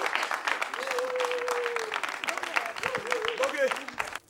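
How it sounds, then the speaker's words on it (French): An audience bursts into sustained applause, a dense crackle of clapping that carries on under a voice speaking over it. "Applaudissez encore pour notre ami."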